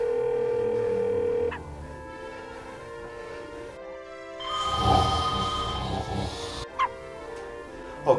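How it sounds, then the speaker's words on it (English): A telephone ringback tone purrs steadily while a caller waits for an answer, then cuts off. A brief burst of noise and some clicks follow. "Oh, come on. Answer the phone."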